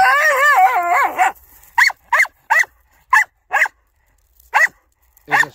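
A Spaniel whimpers and whines, then barks sharply several times in short separated bursts, close and loud with quiet gaps between.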